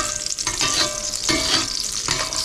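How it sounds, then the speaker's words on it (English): Chorizo frying in its own rendered fat in a soup pot, a dense close sizzle with bursts of spitting and a few stirring movements, alone without talk. "it didn't take long to cook off the chorizo at all, and I'm left with all this delicious fat"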